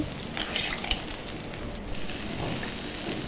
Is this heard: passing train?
no